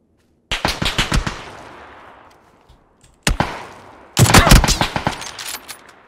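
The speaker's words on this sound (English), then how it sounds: "Spraying like this with SLR." SLR rifle gunfire in PUBG on the Vikendi map: three loud bursts of rapid, cracking shots, each fading into a short echoing tail, with brief gaps of near silence between them.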